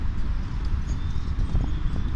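Horse hooves clip-clop steadily on the ground, a rhythmic run of close, fairly loud hoofbeats heard without speech.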